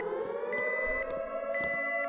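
Wailing fire alarm siren inside a VR security game, a steady electronic tone with a pulsing repeat roughly every half second, loud and continuous throughout.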